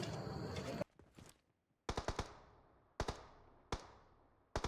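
Video-game gunfire in a mobile battle-royale shootout: sharp bursts of two or three quick shots, repeated at close range, each ringing out briefly against near silence.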